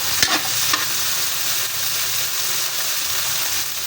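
Tomatoes cooking in a pan for a tilapia dish, a loud, steady sizzle with a couple of quick stirring scrapes near the start, close up and uninterrupted, no voices.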